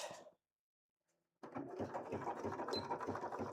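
A sewing machine stitches stretchy fabric for a cosplay boot, its motor humming in a steady rapid whir after a brief pause, close and continuous, with no speech.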